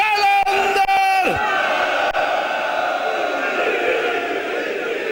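A large mosque-hall congregation at a Shia majlis in Sialkot roars back a Qalandar slogan in unison, a loud, sustained massed shout filling the room after a leading voice.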